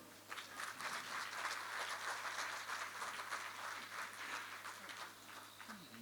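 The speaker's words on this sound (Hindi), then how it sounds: "तालियां थोड़ी कम है।" Faint, thin audience applause during a Hindi talk-show interview, scattered clapping sustained softly at a distance for several seconds.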